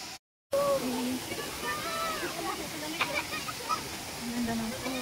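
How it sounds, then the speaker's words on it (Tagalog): Lubong-Nangoloan Falls in San Felipe, Zambales roar as a steady broadband wash of falling water, with voices and other sounds faintly present over it and a brief dropout near the start. "Ang ganda ng falls."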